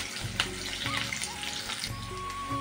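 Chopped onions and green chillies fry in hot oil in a pan, giving a steady close sizzle with faint clinks of a utensil, no voices.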